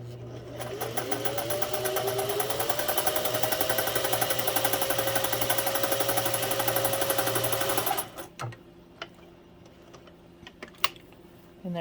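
A Singer 401a sewing machine runs steadily at short stitch length, sewing half-moon arcs, with a close, rapid mechanical whir. It stops after about eight seconds, leaving a few faint clicks and handling sounds.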